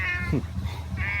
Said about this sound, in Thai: แมว ไม่รู้แมวใคร